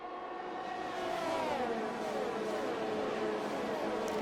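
Formula One cars in the F1 2022 racing game, modded to equal performance, at the Saudi Arabia round: a steady high engine whine with pitch sweeping down and back up as cars run close in a slipstream, loud and continuous.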